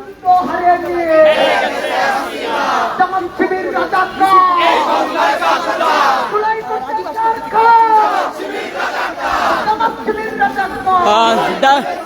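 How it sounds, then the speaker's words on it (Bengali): A large protest crowd at Dhaka University chants slogans over the acquittal of a war criminal sentenced to death, many voices rising and falling together in loud, rhythmic calls that continue without pause. "এই মুহূর্তে আপনারা দেখতে পাচ্ছেন ঢাকা বিশ্ববিদ্যালয়ে একটি বিশাল বিক্ষোভ মিছিল প্রতিবাদ বিক্ষোভ মিছিল করছে"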